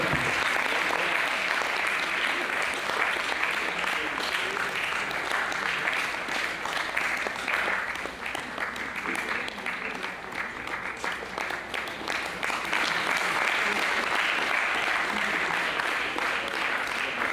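An audience at an inter-school quiz program claps continuously and evenly for about seventeen seconds, a dense, sustained applause without cheering or voices on top.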